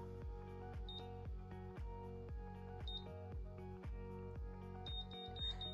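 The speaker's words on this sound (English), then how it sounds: "And you just wait for the beeping sound to stop." An automatic hair curler emits a steady series of short, regularly spaced beeps, faint and close, with no voices over it.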